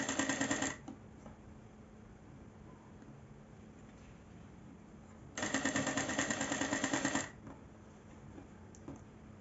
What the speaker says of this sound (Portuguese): E vou costurando bem coladinho